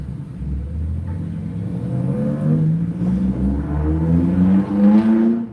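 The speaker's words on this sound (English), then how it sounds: "That's just a Nissan 240." A Nissan 240 engine revving, its pitch climbing steadily in a rising whine over a deep rumble, loud and close with no voices.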